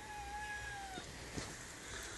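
A young male kitten meows twice in a high, rising-and-falling cry over low room rumble at home on its first evening there, followed by a few faint soft clicks and rustles.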